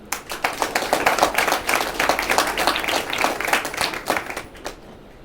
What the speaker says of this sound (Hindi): एक जोरदार ताली हो जाए